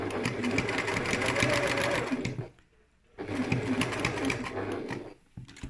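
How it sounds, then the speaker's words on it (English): A sewing machine top stitching a pencil case with a lengthened stitch runs in two steady, rapid bursts separated by a brief pause, close and fairly loud. "I have just lengthened this stitch a little bit because we are top stitching"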